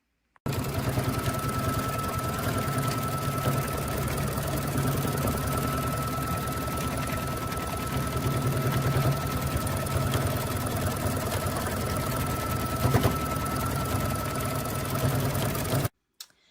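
An embroidery machine stitches a feather quilting design for a fall table runner: a steady, close mechanical whir with fast, even needle clatter running without pause for about fifteen seconds.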